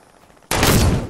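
A single loud rifle shot in Fortnite cracks sharply after near silence and rings out with a broad, fading tail.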